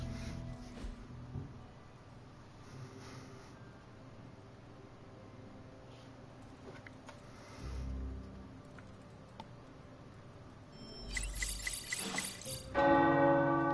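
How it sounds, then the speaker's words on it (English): Tower bells ringing in the Marvel's Midnight Suns video game: faint distant chimes early on, then a loud bright bell clang near the end over quiet game ambience. "The tower bells are ringing."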